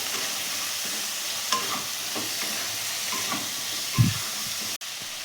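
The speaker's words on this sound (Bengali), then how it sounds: "ভালো করে মশলার সাথে আলুগুলোকে মিশিয়ে নেব" Potatoes being stirred in a hot pan with turmeric, chili powder, sugar and salt for a Bengali drumstick flower chorchori, a steady soft sizzle with faint scrapes of the spoon and one louder close knock.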